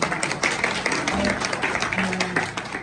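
Audience applause at a live Swang Kabira stage performance: dense, loud clapping from a crowd that keeps going steadily throughout.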